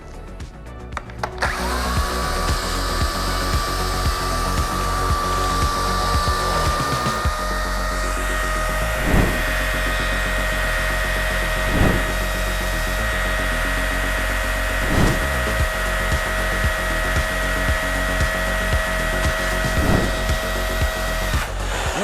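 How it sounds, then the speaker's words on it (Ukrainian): 1800 W electric saw powered from a Ryobi 1600 W power station, a loud steady motor whine with a rising start, then a sustained drone carrying rhythmic periodic knocks, with no talking. "ця електрична пила 1800 Вт використовує"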